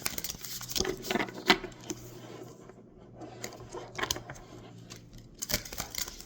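Oracle cards shuffled by hand in short, irregular bursts of papery riffling and tapping, close and fairly quiet, with brief pauses between the flurries.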